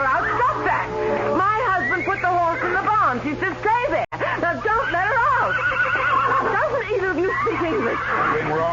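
A Palomino horse whinnies and neighs repeatedly as a radio drama sound effect, with shrill rising and falling calls close up, interrupted by a brief cut midway.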